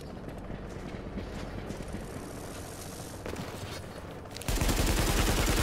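Gunfire in The Division Beta, a dense rattle of rapid shots throughout that jumps to a much louder, closer burst of automatic fire near the end.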